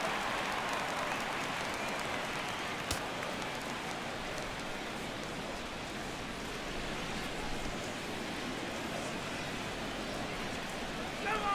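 A baseball crowd in MLB The Show 17 on PS4, Tigers vs Pirates, roars as a broad, continuous wash of cheering and murmur that stays loud and steady throughout, with a single sharp knock partway through.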